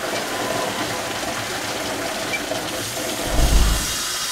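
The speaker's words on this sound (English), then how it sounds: "We're going to crack open our water supply so we get a water flow through the main drain." Water rushes through the main drain of a Viking dry pipe sprinkler riser as the supply valve is opened during a system reset, a steady broadband flow that swells into a louder, deeper surge near the end.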